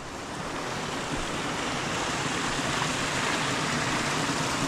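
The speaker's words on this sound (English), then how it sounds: "the water's come cascading down from up there very, very fast, and then dropping through the porthole here" Water from a gully cascades fast through a drainage pipe into a river, a steady, dense rushing roar that holds constant throughout with no voices.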